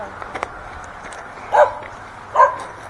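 Dogs in a Jamaican countryside village in St. Thomas give two short barks a second apart, moderately distant, after faint scattered sounds.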